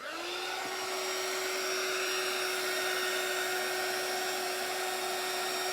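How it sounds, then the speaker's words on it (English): A heat gun blows hot air while smoothing a Dollar Tree pizza pan sign, producing a constant close-up whooshing roar with a steady whine that runs unbroken throughout. "Take the heat gun to it."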